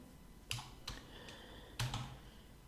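A few quiet clicks and taps on a computer keyboard, sparse and close, as Python code is copied and pasted, with soft room noise between the keystrokes.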